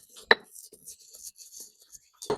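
Coriander seeds and allspice berries crushed by hand: one sharp crack, then several soft, scattered grinding taps, and a second firm crunch near the end, close and fairly quiet.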